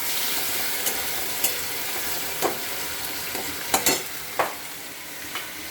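Goat mutton sautéing in a pan with a little water added, a constant bright sizzle with several soft scraping stirs of a spoon breaking through at irregular moments, close and moderately loud.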